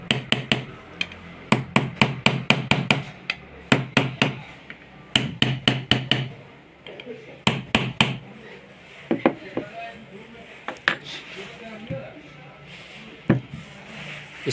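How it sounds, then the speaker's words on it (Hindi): A hammer taps a part into place on a homemade tile and wood cutter machine, giving sharp, close, light blows in quick bursts of several strikes with short pauses, while someone talks in between. "आपको इस तरह से हथौड़ी से हल्के हल्के बिठाओ आप"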